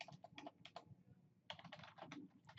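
Typing on a computer keyboard while configuring switch settings: quick bursts of close, crisp key clicks with a brief pause in the middle, fairly quiet, with no talking.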